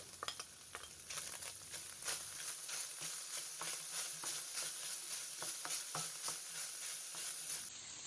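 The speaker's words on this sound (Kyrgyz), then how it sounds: "Эми пиязды салып, эт менен чогуу кызарта кууруп алабыз." Onion and meat sizzle steadily in a hot pot while a utensil stirs and scrapes in irregular strokes, with no voices.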